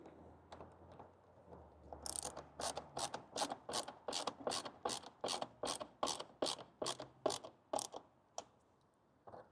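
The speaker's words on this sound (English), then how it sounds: "line up the screws, and screw everything back together." Rapid ratcheting clicks from a hand tool driving the air filter housing screws back into a RAM 1500, a steady run of about twenty close, crisp ticks over a couple of seconds, with no talking.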